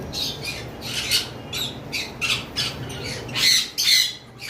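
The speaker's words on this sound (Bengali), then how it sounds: "আমাদের এখানে যেই জাপানিজ রেড আই বাজিগরগুলো রয়েছে টোটাল তিনটে পিস রয়েছে" Japanese red-eye budgerigars squawking close by, a run of sharp, shrill calls coming in quick irregular bursts over a low steady background hum.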